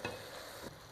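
Chickpeas fry with spices in a pan for a Rawalpindi-style fried chana breakfast dish, giving a close, steady sizzle with a brief stirring scrape near the start.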